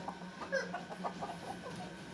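A Turkish breeder's hen clucks in a short run of soft, quick calls, fairly faint and close by, with no voices over it.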